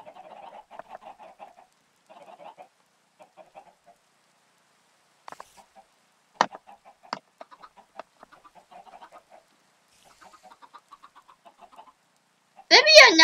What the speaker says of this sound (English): There might be a lot of chickens in here.